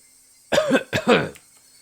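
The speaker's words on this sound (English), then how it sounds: "That wasn't a normal coughing sound." Two harsh, wet coughs in quick succession, close and loud, followed by silence.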